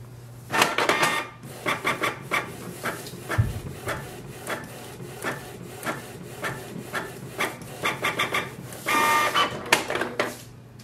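A Canon Pixma G3260 inkjet printer runs a test page, giving off repeated rasping, rubbing mechanical passes with short clicks and whirs in bursts over about ten seconds, close and moderately loud, with no talking.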